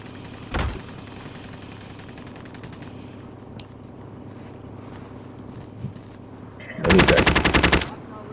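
Automatic gunfire in the Call of Duty Warzone video game: a single loud shot early, quieter distant pops, then a sharp rapid burst of machine-gun fire lasting about a second near the end.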